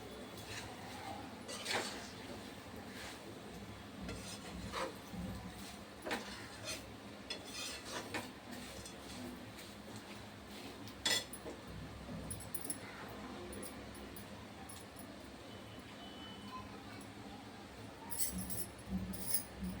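Poha chivda stirred in a pan with salt, turmeric, fried onion and roasted coconut: faint, steady scraping and rubbing with scattered light clinks of a spoon against the pan, continuing throughout.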